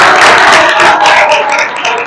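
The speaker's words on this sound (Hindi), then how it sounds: "एक बार तालियां बजाओ लाला लाजपत राय के लिए" Schoolchildren clap together for Lala Lajpat Rai at a school assembly, a dense burst of many hands filling the room, steady and loud for about two seconds before easing slightly.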